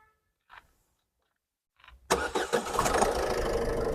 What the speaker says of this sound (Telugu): ఇంజన్ చూడండి, స్టార్ట్ చేయ ఇంజన్ ఒకసారి.